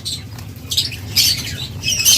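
Caged lovebirds let out shrill, harsh squawks in short bursts, loud and close, with brief gaps of quiet rustling between calls.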